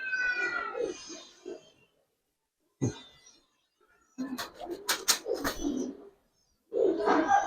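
Giribaz pigeons give soft, low coos in short bursts separated by pauses, close by, with some rustling and brief sharper sounds mixed in.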